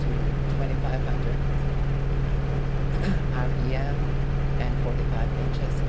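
An F4U Corsair piston engine runs steadily at reduced RPM, a constant droning hum with a strong low tone, heard close up beneath a voice speaking.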